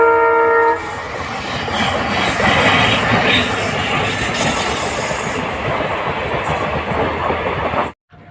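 A train horn blares, then a long goods train rumbles past close by near Hubli, India, with steady clattering wheels before the sound cuts off abruptly.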